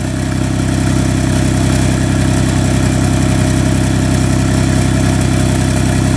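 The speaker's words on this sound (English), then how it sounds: "You can hear it misfiring on cylinder 5." A car engine idles loudly and close, its low rumble pulsing with an uneven, lumpy rhythm from a misfire on cylinder 5.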